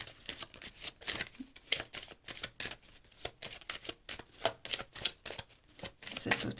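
A deck of oracle cards is shuffled by hand in quick, repeated riffling bursts, each a short papery rustle, close and fairly quiet, with no speech.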